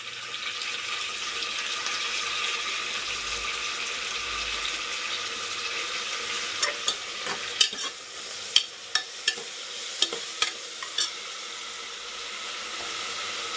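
Mint and spices fry in a pan for vegetable pulao, giving a steady soft sizzle with occasional stirring clicks and scrapes toward the end, close and fairly quiet.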